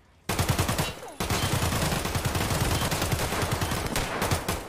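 Rapid automatic gunfire in Escape from Tarkov starts abruptly, breaks off briefly, then resumes as a loud sustained burst of close shots with sharp repeated cracks.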